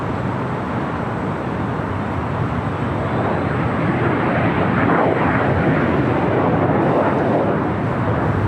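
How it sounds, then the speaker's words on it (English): A JSX Embraer ERJ regional jet arriving at LAX, inbound from Cabo San Lucas, gives a steady, loud broadband engine roar that holds evenly throughout with no voices. "we have JSX Flight 1073 coming in from Cabo San Lucas and the ERJ"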